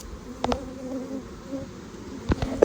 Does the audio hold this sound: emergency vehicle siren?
no